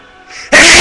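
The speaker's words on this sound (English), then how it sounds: "I'm sneezy!" A person sneezes loudly during a Metroid Prime game stream: a soft rising inhale builds for half a second, then breaks into a sharp, explosive burst that stays loud and close to the end.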